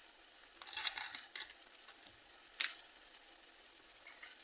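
Chopped tomatoes with ginger and garlic paste go into a pan of fried onions, giving a faint, steady hiss of sizzling with a couple of sharper splutters and light stirring.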